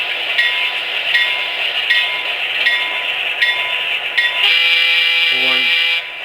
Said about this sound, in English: Slower bell.